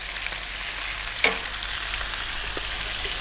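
Onion, ginger garlic paste and fresh chilies fry in a pan over medium heat, a steady close sizzle with a single sharp clink of the stirring utensil and a few faint scrapes.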